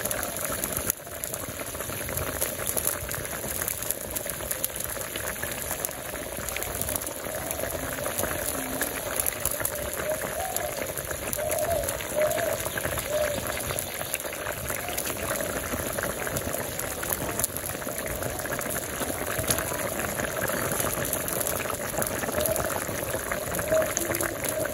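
Fish curry boils in a pot in a village kitchen, bubbling and simmering steadily and close by throughout, with some faint background voices.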